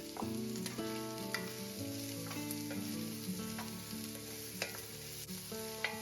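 Chopped vegetables fry in grapeseed oil in a farmhouse kitchen, giving a steady close sizzle with stirring clatter and a few sharp utensil knocks, no talking.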